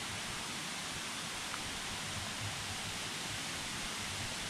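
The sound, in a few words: Jor Por Ror waterfall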